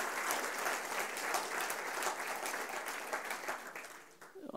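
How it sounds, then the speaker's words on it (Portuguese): A church congregation claps hard and continuously, a thick wash of many hands with rhythmic pulses, fading slightly toward the end; the sound is fairly distant and soft overall. "Vai aplaudir, aplauda forte, que é para Ele."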